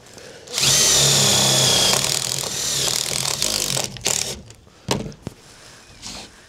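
A power drill bores into the sheet-metal roof of a converted bus, a loud, close whine for about three seconds, then easing off into short intermittent bursts and clunks.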